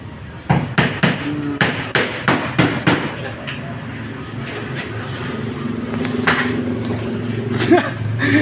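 A hammer strikes sharply about ten times in a quick, uneven rhythm, close by, then stops as people talk over a low background rumble.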